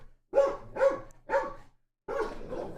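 A dog barks four times in short, sharp bursts at close range, with a brief pause before the final drawn-out bark, in an otherwise quiet room.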